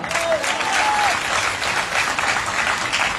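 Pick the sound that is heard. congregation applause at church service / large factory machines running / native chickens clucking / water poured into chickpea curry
congregation applause at church service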